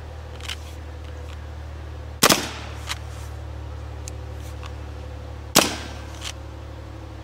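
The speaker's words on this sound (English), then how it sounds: "Let's do another single shot, see what we get." A Hatsan Blitz LE .30 caliber air rifle fires two sharp, loud single cracks a few seconds apart over a steady low hum, with faint small clicks between.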